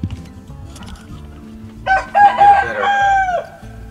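A Shamo rooster named Atomic crows once, loud and close, a strained, drawn-out call of about a second and a half that rises then trails off, following some low clucking and farmyard noise.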